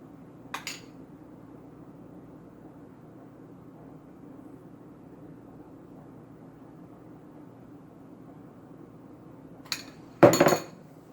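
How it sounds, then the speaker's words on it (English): Sauce spooned over apple puff pastry, heard as a few light clinks of a spoon against the dish: one near the start and two close together at the end, over a quiet steady background hum. "And we're just going to spoon that over top."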